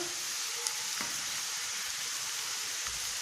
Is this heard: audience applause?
no